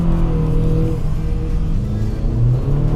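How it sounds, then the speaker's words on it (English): A 2017 Honda Accord Sport with a CVT and simulated shifts revs and accelerates steadily, a loud, close droning roar with rising tones throughout. "let's take a little acceleration here"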